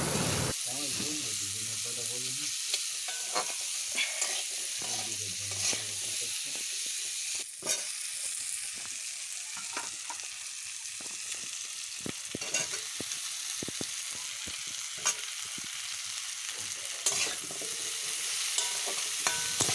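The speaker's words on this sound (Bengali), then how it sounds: "কুমড়োগুলো দিয়ে হালকা করে ভেজে বেশি ভাজবো না" Potato and pumpkin pieces sizzle in a wok, frying hot and continuous with scraping stirs and occasional clinks of the spatula, loud and close throughout.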